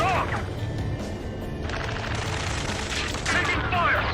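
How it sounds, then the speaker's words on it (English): Gunfire during a ground battle in the Ace Combat 7 video game: a continuous dense clatter of shots and crashes, loud and close, with shouted voices over the din. "Taking fire! We're pinned down! Shoot back!"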